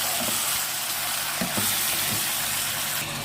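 Chicken pieces frying in oil in a karahi, a steady dense sizzle with light stirring clatter running continuously throughout.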